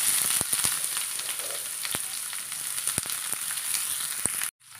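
Sliced onion sizzles loudly in hot oil with fenugreek seeds and curry leaves, a steady close frying hiss with occasional sharp pops and stirring clicks that stops abruptly at the end.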